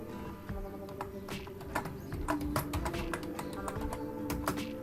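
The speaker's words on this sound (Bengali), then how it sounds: "কারণ আমি লিখছি আমার নাম লিখছি মাই," A name being typed on a computer keyboard in Microsoft Word: a close, steady run of quick keystrokes with uneven spacing over a faint background hum.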